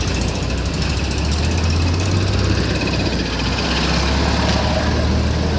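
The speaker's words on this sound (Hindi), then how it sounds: "इतना शोर शराबा है भाई शहर में" City street traffic fills the air with loud, dense engine rumble and a rattling, hammering drone that stays constant throughout.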